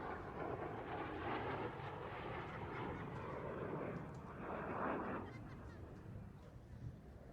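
An F/A-18 Hornet jet roars past at an airshow on a fast inverted pass, a broad, distant rushing that swells and then fades, with a commentator talking over it.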